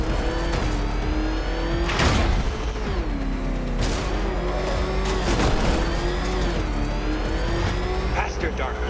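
The Batmobile engine in Batman: Arkham Knight roars loudly and continuously, pitch rising and falling with acceleration, punctuated by crashes and impacts, with a character speaking over the racing.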